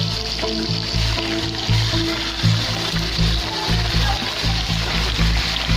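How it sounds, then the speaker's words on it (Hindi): Chicken or mutton liver, washed and drained, dropped into frying onion-ginger-garlic paste for kaleji masala; a steady loud sizzle and crackle with splattering runs throughout, no voices. "अब मैं इसमें कलेजी डालने लगी हूँ।"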